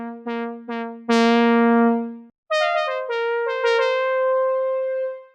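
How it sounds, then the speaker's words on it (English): A series of synthesizer notes played one after another, some struck hard and bright, others softer, each ringing with a clean harmonic tone. "listen to what happens when I play some notes at different velocities on my MIDI keyboard"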